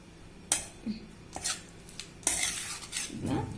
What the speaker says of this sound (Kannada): ಈಗ ಇದನ್ನ ನಾನು ಒಗ್ಗರಣೆಗೆ ಮಿಕ್ಸ್ ಮಾಡ್ಕೋತಿದ್ದೀನಿ